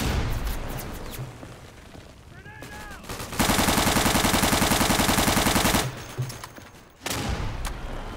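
Sustained burst of automatic gunfire in a WWII tactical shooter game, a dense rapid stream lasting several seconds, with shorter shots and in-game action around it and no talking over the firing.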